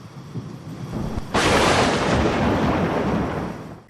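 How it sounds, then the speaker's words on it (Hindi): Thunder cracks and rumbles through a thunderstorm with torrential rain, a loud broadband roar surging suddenly about a third of the way in and sustaining over a steady rainy background. "बादल गरज और चमक रहे थे, बिजलियां कड़क रही थी और मौसलाधार बारिश हो रही थी"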